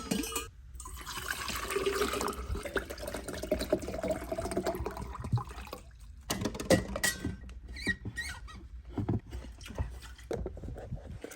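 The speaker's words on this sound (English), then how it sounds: "I do need to fill up my water bottle real quick" Water runs from a tap or dispenser into a water bottle in a kitchen, a continuous splashing gush that briefly breaks off and resumes, with faint clattering handling noises.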